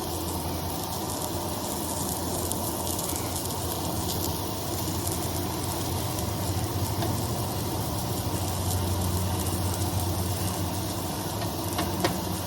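Bacon and eggs fry in a pan at a campsite, producing a continuous, even sizzle and crackle that holds steady for over twelve seconds, close by, with no one speaking.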